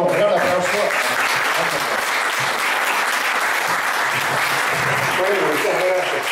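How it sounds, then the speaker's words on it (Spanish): A congress audience applauds in a dense, continuous wash of clapping that fills the room and holds steady throughout, with a few voices faintly mixed in. "yo le daría un gran aplauso."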